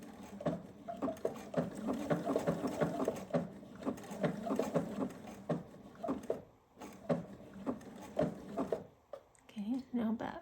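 A home sewing machine stitches fabric in quick, even, rattling bursts that run almost continuously at close range, with a brief pause near the end, while a person talks over it.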